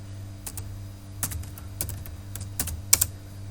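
Sparse keystrokes on a computer keyboard while entering a Logo procedure, a few distinct clicks at irregular intervals over a steady low electrical hum, close and fairly quiet.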